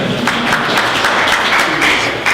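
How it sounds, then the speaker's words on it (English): An audience applauds at a business event, a dense, loud burst of clapping that holds steady throughout with no talk over it. "We can clap for everyone."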